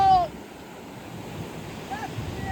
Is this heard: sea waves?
yes